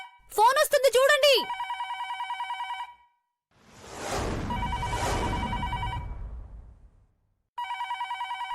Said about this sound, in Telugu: భవానీ ఆంటీ, ఫోన్ వస్తుంది చూడండి